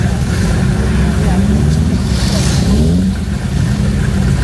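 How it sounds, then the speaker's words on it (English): A TVR sports car passes at a busy car show, its engine a steady rumble that swells briefly mid-pass under crowd noise and talk. "There's a TVR going through there."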